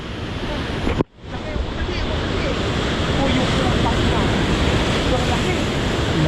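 Big ocean waves crash on rocks in a continuous, loud roar of surf, with heavy wind buffeting the microphone and a brief dropout near the start.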